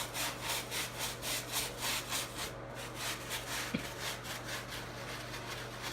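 A scrub brush works back and forth on a wet Jordan shoe sole in steady rhythmic strokes, a close, soft bristly scrubbing with a constant low hum behind it.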